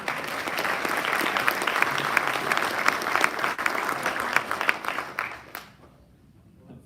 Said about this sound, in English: Let's have another round of applause for all of our Category 1 civilian nominees